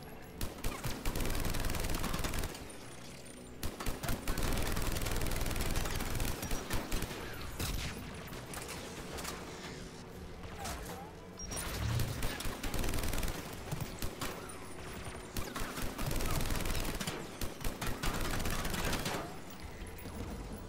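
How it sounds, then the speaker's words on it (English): Anti-aircraft guns in Mass Effect hammer out loud, rapid bursts of automatic fire, with repeated volleys broken by short gaps of quieter background. "AA guns ahead of us."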